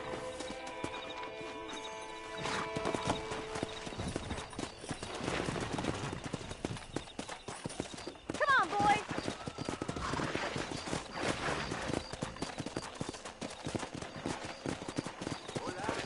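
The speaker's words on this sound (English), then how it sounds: "Let's see if we can't wrangle some horses." Hooves clip-clop and pound along at a gallop in Red Dead Redemption, with an occasional horse whinny amid game background sounds and scattered voices.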